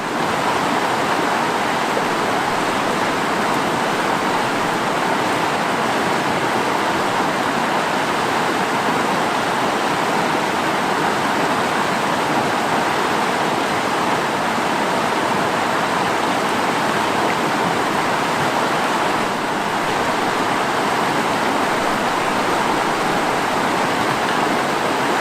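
Strong river current rushing steadily through the Superstition Wilderness, a dense, continuous roar of flowing water heard close and loud for the whole stretch with no voices.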